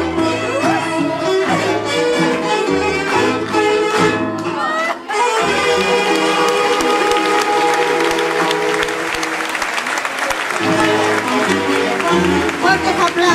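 Audience applause at a live concert by a female Latin folk singer, with a loud, dense burst of clapping rising after a sung passage and music playing on beneath the steady crowd noise.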